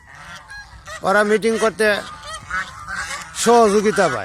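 Domestic geese on a goose farm honk loudly in several harsh, nasal bursts, some overlapping, close by, with someone talking over and between the calls.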